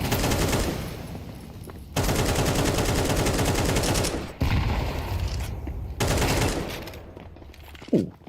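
Rapid bursts of automatic gunfire and fusillades from a Counter-Strike 2 match at a professional esports major, loud and sustained in several long volleys separated by brief gaps, with a short sharper sound near the end.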